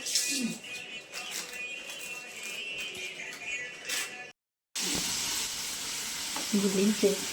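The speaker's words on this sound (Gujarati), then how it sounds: "ખમણનો વઘાર તૈયાર કર્યો" Spices crackle and sizzle in hot oil as tempering for khaman, a steady close-up frying hiss broken by a brief gap, with faint stirring noises.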